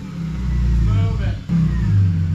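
Close by, a BMW E46 wagon's engine rumbles deep and revs up, dips briefly, then revs again, with a person talking over it.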